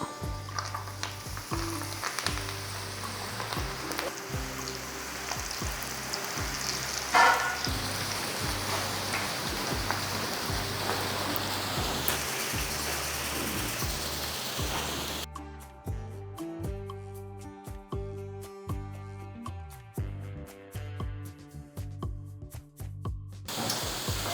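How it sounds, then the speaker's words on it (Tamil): Pakoda batter dropped into hot oil sizzling steadily, a dense bright crackle over a low backing hum that continues throughout, with no talk in the foreground. "எண்ணெயும் நல்லா காஞ்சிருச்சு இப்போ இதை எடுத்து அப்படியே போட்டுடலாம்"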